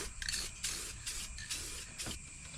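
Rust-Oleum gloss black acrylic enamel hisses from a spray can onto rusted Ford Super Duty rocker panels in a series of short, quiet bursts with brief pauses between them.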